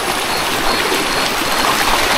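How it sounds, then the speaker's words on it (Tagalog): River water flowing through a forest, a steady broadband rush of moving water that fills the whole stretch without pause, close and fairly loud. "Ayan na ang ilog."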